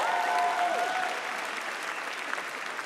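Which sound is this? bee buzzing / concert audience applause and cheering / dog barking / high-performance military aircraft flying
concert audience applause and cheering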